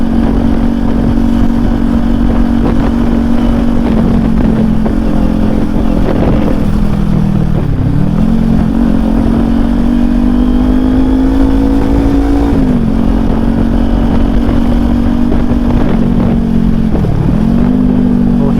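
A Kawasaki Ninja 400 sport motorcycle engine roars continuously at close range in traffic, its pitch rising and dipping as the rider eases off and opens the throttle.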